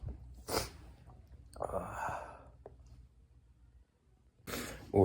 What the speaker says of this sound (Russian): Ой, чихнуть.